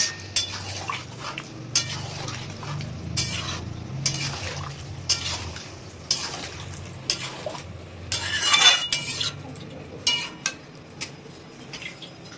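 A utensil stirs prawns and spring onion mixed with boiled potatoes in a pan, giving repeated scraping strokes and metallic clinks at an uneven rhythm, close and clear over a faint sizzle.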